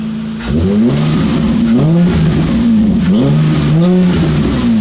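A rebuilt car engine, still a little cold, revs hard several times in quick succession, its exhaust rising and falling in a loud, throaty roar close by.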